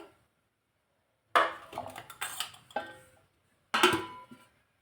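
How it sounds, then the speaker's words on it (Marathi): A spoon works spices, green chilli, red chilli powder, turmeric and cumin into urad dal batter in a bowl, making a few short bursts of wet scraping and knocking separated by silence. "हे एकजीव करून घ्यायचं आहे"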